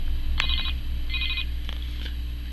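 A toy play cell phone gives out two short, bright electronic ringing chirps when its button is pressed, close and clear, followed by a couple of faint clicks over a steady low hum.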